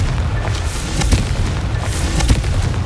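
Confringo blasting spell explosions in the Hogwarts Legacy video game, a dense sustained roar with repeated heavy booming bursts punching through, loud and close throughout.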